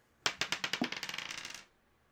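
A small die clatters across a hard surface in a quick run of bouncing clicks that speed up and fade over about a second and a half, close and alone.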